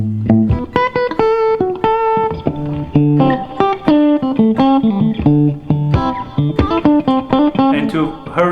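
An electric guitar plays a bluesy solo mixing blues and major scales, with clear, close, ringing bent notes and quick phrases in a loose, uneven rhythm and little or no talking.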